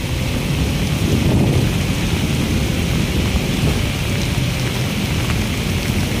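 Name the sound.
heavy rain pouring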